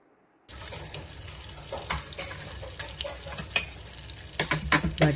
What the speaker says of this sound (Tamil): பட்டர் மெல்ட் ஆகட்டும்.